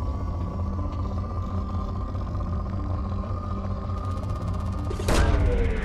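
A probe launches in Mass Effect 2 over a steady low hum, ending in a sudden sharp whoosh and thump near the close.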